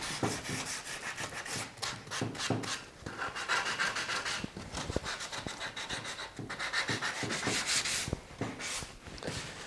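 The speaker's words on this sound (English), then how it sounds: "This thing takes forever to sand because you've got to get, all four sides of each one of these pieces of wood" Teak wood from a garden bench is sanded by hand in a steady, close rasping rub, with back-and-forth strokes that swell and ease with little pause.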